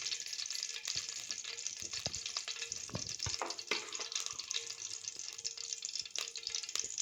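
Chicken frying in ghee in a pan for chicken uruval, a quiet, continuous crackling sizzle with occasional clinks and stirring scrapes, close and without talk.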